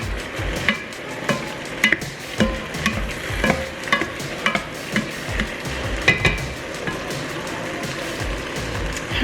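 Ground turkey browning in a pan for creamy taco soup, sizzling steadily while a utensil stirs and scrapes it in repeated close, sharp strokes.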